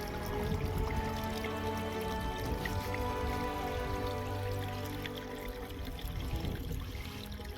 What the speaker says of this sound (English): It's actually a spring.